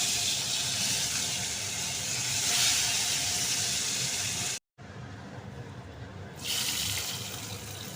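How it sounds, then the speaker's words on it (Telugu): A tempering of garlic, cumin, dried red chillies, curry leaves and mustard seeds fries in hot oil for a tomato dal curry. It makes a loud, close, continuous hissing sizzle, with one brief dropout midway. No one speaks. "వీటిని తాలింపు అవడానికి ఈ విధంగా దాన్ని ఫ్రై చేసుకోవాలన్నమాట"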